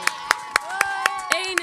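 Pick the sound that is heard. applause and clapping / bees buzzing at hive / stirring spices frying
applause and clapping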